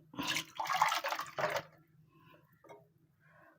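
Ground coconut masala thinned with water is poured into a clay pot for a tuna fish curry, making a short, close, splashy gush for about a second and a half, then faint dribbles.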